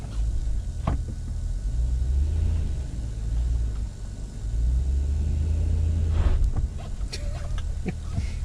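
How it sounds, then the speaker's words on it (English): A Honda Accord passes by, its engine rumble swelling and fading as it approaches and goes past, with a few sharp knocks near the end. "Dude, that's a Honda Accord."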